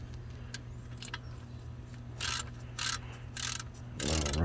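A ratchet clicks in short bursts while loosening the oil pan drain nut on a 2013–2015 Chevy Malibu 2.5L during an oil change, with quiet metallic handling between the clicks.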